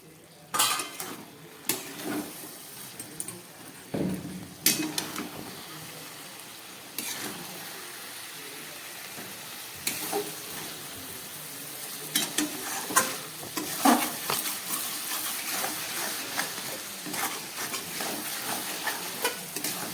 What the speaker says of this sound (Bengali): গ্যাসটা কম করে আমি 2-1 মিনিট ঢাকা দিয়ে একটু কষাবো